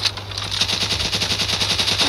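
A tier 1 shotgun fires in a zombie video game, a fast, even string of loud blasts that run together for about two seconds with no talking.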